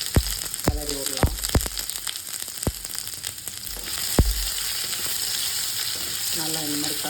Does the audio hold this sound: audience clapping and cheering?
no